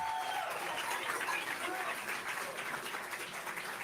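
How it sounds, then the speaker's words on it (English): A faint, distant round of applause for Senator Debbie Stabenow at a campaign election night event, steady clapping mixed with scattered cheers and whoops from the crowd. "give one more round of applause to the amazing Debbie Stabenow."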